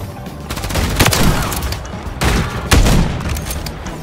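Loud rapid gunfire from a Call of Duty match, with bursts of shots and booming impacts rattling in a dense fusillade and faint voices in the mix.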